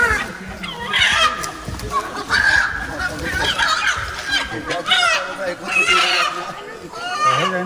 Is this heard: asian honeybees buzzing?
no